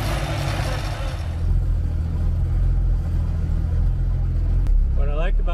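Jaguar car rolling in a very low gear on cruise control, a low steady engine drone with road rumble inside the cabin, a brief click near the end and a voice briefly audible at the start and finish.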